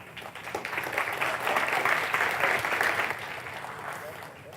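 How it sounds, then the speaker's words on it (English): A conference audience claps for a speaker, a dense patter of many hands that swells and then fades, fairly distant and moderately loud. "So, applause for Davey Shafik."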